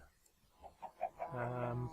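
Minecraft chickens inside a chicken cooking machine cluck in a short run of soft, separate calls that build into a louder sustained squawk near the end, close by with no talk.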